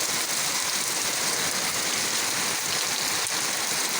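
Heavy rain pouring on a farm in Padre Garcia, Batangas during a typhoon with flooding, a dense, loud, unbroken hiss filling the whole span without pause.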